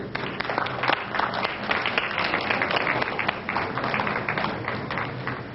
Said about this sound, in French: j'aimerais qu'on donne une bonne main d'applaudissement à Jim Calder